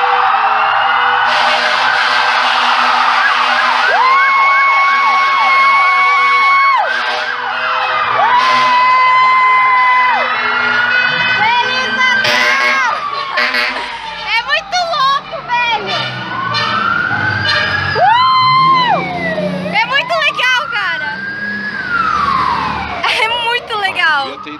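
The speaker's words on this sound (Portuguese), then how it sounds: "Gente, tá passando os bombeiros." Fire trucks pass by on Christmas with wailing, whooping sirens that sweep up and down, loud and near, mixed with horn blasts and crowd noise. Voices talk excitedly over the sirens.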